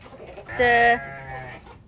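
A lamb bleating in a home yard shared with chickens, one clear, loud, wavering bleat close by, rising abruptly and fading, against quiet background noise.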